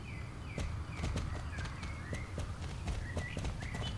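Horse hooves clip-clop in a steady walking rhythm in the online horse-riding game Star Stable, close and continuous, with faint chiming game tones layered over them.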